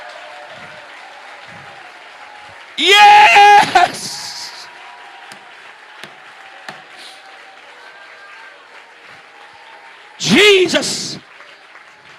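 A church congregation breaks into two short bursts of loud, dense clapping during a sermon, with an excited voice shouting over the first burst and a quiet hall between.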